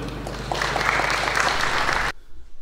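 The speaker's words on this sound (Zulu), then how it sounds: "Asimshayele ke ihlombe." An audience at a Prince Mangosuthu Legacy Cup event bursts into dense, loud applause that holds steady for about two seconds, then stops abruptly.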